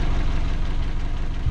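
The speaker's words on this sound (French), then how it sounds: "j'ai démarré le moteur, je fais tourner au ralenti" A 1985 Mazda 626 coupe engine idles close by, a steady low rumble with a faint rhythmic pulse and no voices over it.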